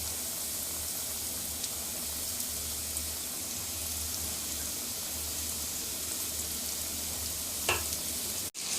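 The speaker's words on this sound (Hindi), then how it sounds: "ये देखें फ्रेंड, चिकन पॉपकॉर्न फ्राई हो रहे हैं।" Chicken popcorn deep frying over a low flame in hot oil, a steady soft sizzle and bubbling hiss running evenly throughout with a brief sharper crackle near the end, heard alone without voices.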